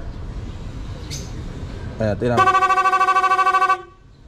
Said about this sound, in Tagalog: Pag nagbusina tayo, nag-i-interrupt yung tunog ng ating busina.